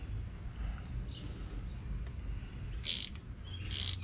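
A ratchet tightens a new bolt with crush washers on an F350 rear wheel bearing, two short bursts of rapid clicking near the end over a low rumbling background.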